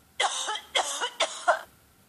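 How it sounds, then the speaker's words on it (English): Three harsh coughs in quick succession, close and fairly loud, with brief pauses between bursts and no other voices. "cough,"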